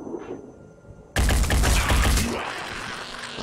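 Gunfire in the video game Phoenix Point, a sudden loud fusillade of rapid shots after a quiet lead-in, forming a dense burst that fades into a ringing tail.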